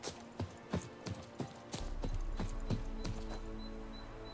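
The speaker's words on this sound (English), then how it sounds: "That's my horse." A horse's hooves clip-clop in The Witcher 3, starting as distinct, evenly spaced hoofbeats close by, then continuing over a steady ambient background.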